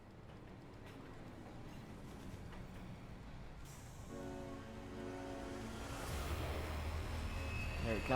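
A sentient train boss rolls in during Earthlock: a low rumble that swells over eight seconds with a steady harmonic whine and wheel squeal rising midway, moderately loud and closing in.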